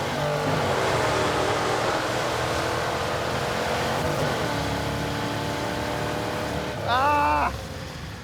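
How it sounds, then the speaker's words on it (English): A Trans Am with a worn, dead flywheel launches in a drag run, its engine roaring loud and steady while the slipping clutch fails to hold, then a sharp rising rev near the end before it drops off. "Ah, the clutch is spinning."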